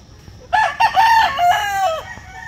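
An Asil gamefowl rooster crows once, loud and near, a long drawn-out harmonic call rising then falling over about a second and a half, with faint farmyard background.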